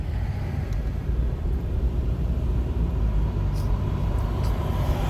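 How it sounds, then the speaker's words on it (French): Steady road traffic rumbles in through a car's four lowered windows, a continuous loud low-frequency roar with passing vehicles and no talk. "si vous entendez les bruits des véhicules, c'est ça."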